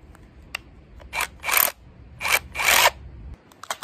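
A KIMO hammer drill chips at the corner of a concrete stone from a rice field, giving four or five short, harsh rattling bursts close by, separated by brief pauses over a low background hum.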